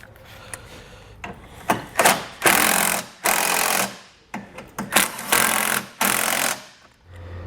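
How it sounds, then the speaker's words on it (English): A 10mm socket tool tightens small M6 bolts on Westin R5 modular nerf bars, heard as a series of loud, close rattling bursts, some short and some lasting about a second, with no talking. "So we're going to take a 10mm socket, we're going to snug all those up and then torque them down to spec."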